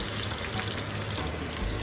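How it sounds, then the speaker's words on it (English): Continuous close sizzling and crackling of food frying in a pan, steady and loud throughout. "so my chicken be sizzling"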